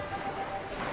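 A dense, continuous rush of stormy sea waves and wind, broad and unbroken, with no voices.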